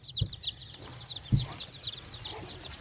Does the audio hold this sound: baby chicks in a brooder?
yes